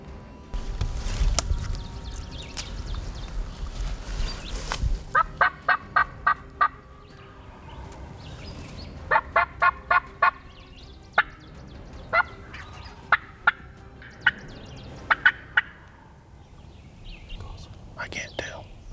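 Several loud bursts of wild turkey toms gobbling, some nearby and some more distant, breaking out between stretches of hushed whispering and faint rustling during a turkey hunt.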